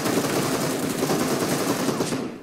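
Loud, sustained rapid automatic gunfire from a PUBG Mobile match, a dense continuous burst lasting a couple of seconds with no gaps.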